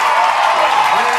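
Dense applause from a crowd fills the whole short stretch, loud and steady with an even wash of clapping and a faint cheer in the mix.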